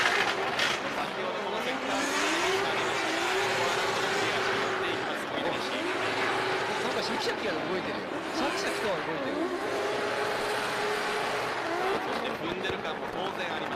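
Drift car at a D1GP drift round in Odaiba, Tokyo, its engine revving hard and tires squealing through a slide, loud and continuous under a commentator's voice.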